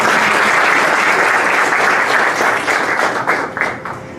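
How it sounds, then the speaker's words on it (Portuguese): Audience applause at an academic forum on distance education fills the room, dense and steady, then thins and tapers off over the last second. "Como já houve os aplausos durante a apresentação"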